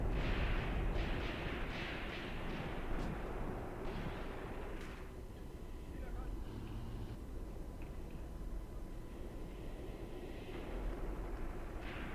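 Distant gunfire and artillery on a World War II battlefield near Kharkov in 1942 in Graviteam Tactics, a low continuous rumble of shots with a few sharper reports early on, fading into steady background roar.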